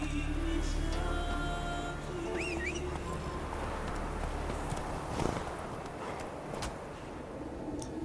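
Hooves of Roach, the horse in The Witcher 3, clip-clopping at a steady walk over a constant game background bed of ambience and music, with a few faint bird calls above.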